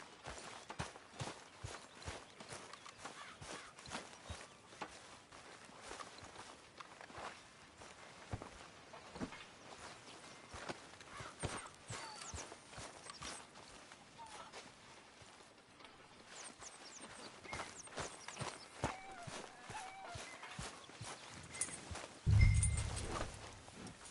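A horse's hooves clip-clop steadily in Red Dead Redemption 2, evenly spaced footfalls at walking pace over a faint ambient bed, quiet and unbroken by talk, with a brief louder rumble near the end.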